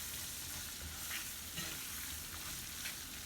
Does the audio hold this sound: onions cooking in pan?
yes